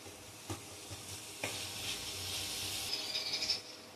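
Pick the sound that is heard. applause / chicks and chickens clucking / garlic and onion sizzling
garlic and onion sizzling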